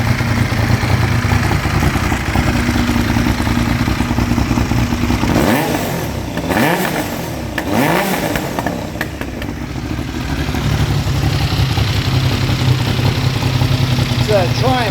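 A Triumph T595 motorcycle with a blown-out Triumph off-road exhaust can runs at a steady, loud idle close by, with a few quick throttle blips in the middle before settling back to a rumbling idle.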